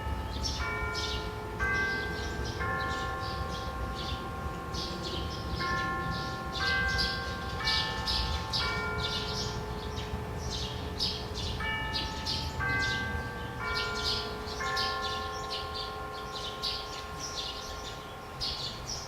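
Village bell ringing as a mindfulness signal at a Buddhist practice community, sounding as repeated clear chimes in irregular groups over steady outdoor ambience with chirping birds throughout.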